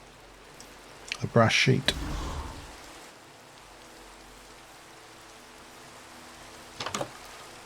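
Steady light rainfall in the video game Mana & Brass, a soft continuous patter under a brief spoken phrase, with a few louder clattering bursts early and near the end.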